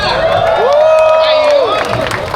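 A crowd of runners cheers and whoops at the start of a 16K running race, a loud burst of shouting voices over a short stretch, with a rising and falling whistle-like tone riding across the noise.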